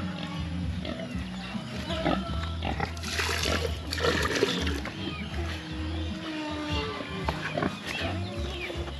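A farm pig eats coconut pulp mixed with broth, grunting and slurping loudly and continuously up close, with shuffling and splashing noises.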